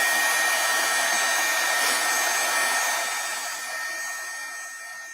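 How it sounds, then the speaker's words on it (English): A handheld heat tool blows a steady, loud whooshing roar over stamped cardstock, holding constant for several seconds before easing slightly toward the end, with no talk. "I'm going to use my heat tool here and just heat these just a little bit."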